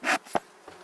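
Honeybees in a hive stirred up after smoking give a brief loud burst of buzzing, then a short sharp buzz and a fainter one, close by with no talk.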